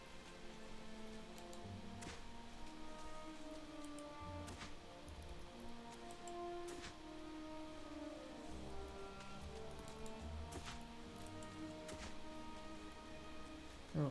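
Rain falls in the Wildmender video game, a soft, even patter with occasional brighter drops and ticks, steady and faint throughout with no talk.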